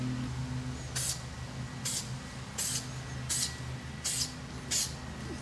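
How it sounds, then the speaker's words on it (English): Six short sprays of cleaner from a spray bottle in the engine area of a C8 Corvette, at a steady pace, each a quick hissing spritz over a low background hum. "We'll give this a little spray."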